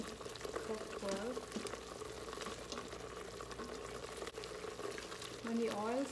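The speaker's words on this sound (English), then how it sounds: "You see now that the masala is getting cooked well." Chickpea masala simmers and sizzles in a pot, with soft, steady bubbling and frying close by while a person talks over it.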